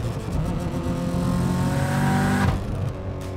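A 600-horsepower Subaru STI accelerates hard on a street, its engine roaring loud and close with a rising tone under boost, then cutting sharply near the end.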